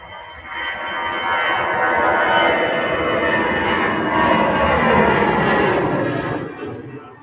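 An aircraft arriving at Manchester Airport roars steadily and loudly for several seconds, a broad sustained engine rumble that swells slightly and then eases as it passes close by, with no talking.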